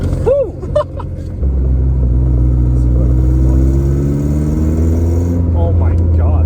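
A 90-horsepower manual-transmission project car accelerates, its engine settling into a loud, steady mid-pitched drone after a brief lower stretch, heard from inside the cabin with excited voices early on.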